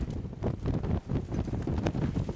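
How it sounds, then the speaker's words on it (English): Gust of wind blowing past a GudCraft WG400A wind generator, a rough, buffeting rumble of microphone wind noise that swells and dips continuously, close and fairly loud. "we got a bit of gust coming through"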